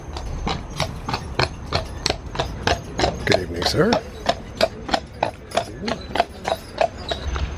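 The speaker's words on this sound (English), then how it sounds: "And another horse." A horse's hooves clip-clop in a steady, evenly spaced rhythm on a walkway at Disney's Port Orleans Resort in Orlando, close and distinct, while people briefly talk nearby.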